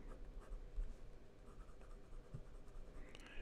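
A steel medium nib on an Asvine P50 piston fountain pen, wet with Pelikan Edelstein ink, scratches lightly across paper in soft, close, faint strokes with slight feedback.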